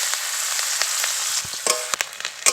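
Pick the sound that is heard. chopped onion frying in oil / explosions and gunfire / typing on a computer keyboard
chopped onion frying in oil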